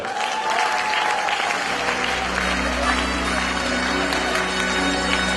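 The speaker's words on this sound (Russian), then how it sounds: "Ваши аплодисменты." Loud, sustained applause fills a hall at a KVN comedy show for Knowledge Day, dense and continuous from start to finish as a guest is invited to the stage.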